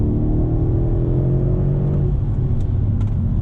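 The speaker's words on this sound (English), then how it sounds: "the acceleration is just unbelievable" Mercedes-Benz AMG CLS 63 S accelerating, a steady loud engine drone and road rumble heard from inside the car, holding level throughout with no talking.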